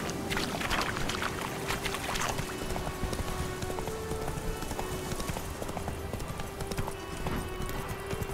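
The horse Roach galloping in The Witcher 3, a steady loud clip-clop of hooves pounding at a fast rhythm over a constant dense rumble.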